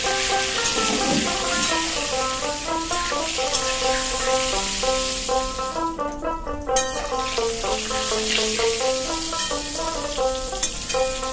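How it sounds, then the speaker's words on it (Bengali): Eggplant frying in oil with salt and turmeric hisses steadily for a Bengali vegetable dish of flat beans, potato and eggplant, with stirring scrapes and a tonal ringing layered over the sizzle. "নুন হলুদটা ভালো করে বেগুনের সাথে মিশিয়ে নিয়ে নাড়াচাড়া করে ভেজে নেব একটু লাল করে"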